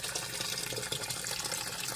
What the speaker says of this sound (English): my return is spitting plenty of water and bubbles down into the res.